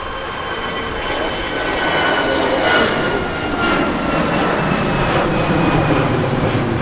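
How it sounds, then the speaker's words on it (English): Hainan Airlines Airbus A330 departing Manchester Airport, a loud, steady engine roar that swells slightly as it builds power, heard from outdoors with no talk. "we'll stick with this Hainan 330"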